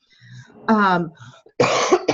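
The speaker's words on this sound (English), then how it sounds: "Obviously, this morning the cough wants to come up." Two harsh, close coughs a moment apart, loud and abrupt, with a short wheezy breath between them.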